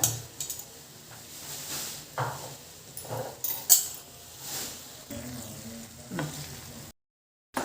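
Grated egg being stirred into dhaba-style egg keema masala in a pan: a spatula scrapes and clinks against the metal in uneven bursts over a soft, steady sizzle, close and moderately loud, with a brief silent gap near the end.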